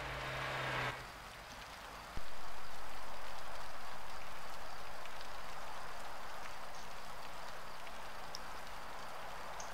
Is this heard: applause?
no